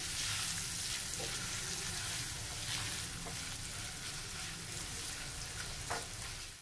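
Finely chopped onion frying lightly in a pan gives a steady, close sizzle, broken now and then by soft clicks of stirring. No voice is heard.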